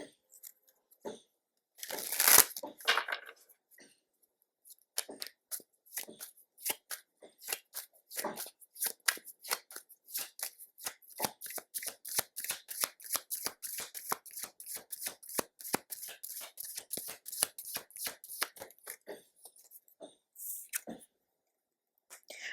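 Tarot deck being reshuffled after a reversed card, a brief loud rustle followed by a long, quiet, close sequence of rhythmic card slaps and riffles that stops near the end.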